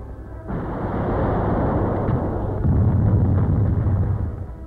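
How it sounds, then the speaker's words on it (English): Artillery cannons fire shells on a barren battlefield, heard as a long, loud, booming rumble that swells and holds for several seconds without voices. "Finally, the cannons go off."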